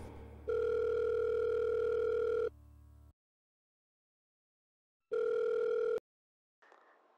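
A telephone ringback tone sounds while a call is being placed: a long steady tone burst, a pause, then a second identical burst, followed by a sharp click and a brief faint rustle.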